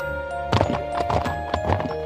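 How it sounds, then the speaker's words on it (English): Cartoon horse hooves clip-clopping in a steady trotting rhythm, close and clear, with a brief whinny-like tone, over a faint musical background and no talk. "a prince riding a horse came by"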